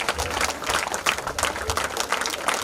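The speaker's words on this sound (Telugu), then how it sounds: "క్లాప్స్ ఇంకెక్కువ రావాలి." Applause at a school get-together reunion: a dense, continuous burst of many hands clapping close by in a crowd, steady and loud throughout.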